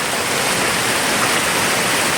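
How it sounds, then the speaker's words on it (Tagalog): A man-made waterfall in Riyadh, Saudi Arabia, seen from the top where the water pours out, roars as a steady, loud, dense rush of falling water with no break across the clip. "Man-made falls pala ito mga boss."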